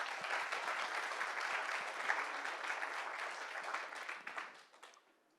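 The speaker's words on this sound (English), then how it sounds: "you all just applauded" Audience applause at an author talk by a university professor, a sustained wash of many hands clapping in a room, steady for about four seconds before tapering off and fading out.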